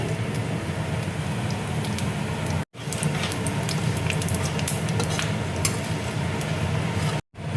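Bay leaf, dry red chilli, cardamom and panch phoron sizzle and crackle steadily in hot oil, close up. The dense frying hiss is broken by two brief cuts.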